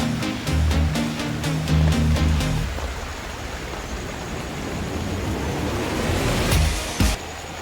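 Loud, steady rush of a fast-flowing river flooded by heavy monsoon rain in Konkan, India, filling the whole clip, with a low mechanical hum underneath during the first few seconds.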